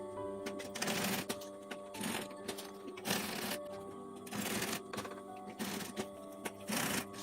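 A domestic sewing machine stitches a small rectangle across a strip of tape while a cosmetic pouch is being sewn, the motor whirring in several short bursts separated by brief pauses at close range.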